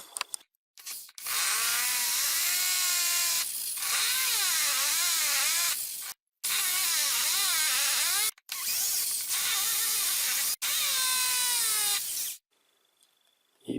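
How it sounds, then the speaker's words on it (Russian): Electric drill fitted with a hardened screwdriver bit drives screws in several long bursts, its whining motor rising and falling in pitch between short pauses, loud and close. "Будем использовать обычную дрель для того, чтобы ускорить процесс."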